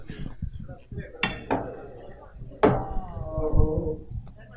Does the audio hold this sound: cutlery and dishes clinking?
yes